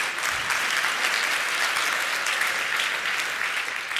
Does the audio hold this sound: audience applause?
yes